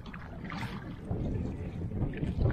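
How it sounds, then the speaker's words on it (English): Steady gusty wind buffets the microphone on an Adirondack lake with rolling waves, a low continuous rumble that swells slightly toward the end, with faint water movement beneath. "It's windy today."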